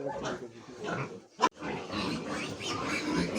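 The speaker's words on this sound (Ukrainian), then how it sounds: "Свиноматочки годують. І наша породілля також хоче годувати" Sows nursing piglets in a farm pen, giving low rhythmic grunts and oinks mixed with squeals from the piglets, close and fairly busy, broken by one sharp knock midway.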